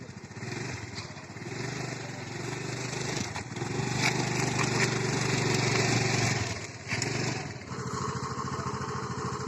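A scooter's small engine putters at idle and then is revved up, swelling louder for a couple of seconds before easing back, close by and with no one talking.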